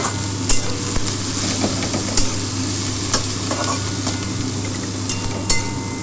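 Dhenki fern greens sizzle steadily in a hot pan as they are stirred, with scraping strokes and small clinks of the utensil against the metal, close and continuous with no talking.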